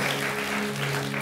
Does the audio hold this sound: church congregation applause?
yes